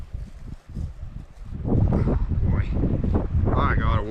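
Cold wind gusting across a river island, buffeting loudly and low against the microphone and building in strength, with someone talking under it.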